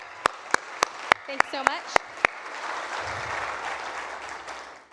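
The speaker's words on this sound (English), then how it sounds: "Give them a round of applause." Applause for event staff in a crowded hall: a few sharp, separate claps open it, then a broad, steady wash of clapping swells and holds, with a brief spoken thank-you near the start.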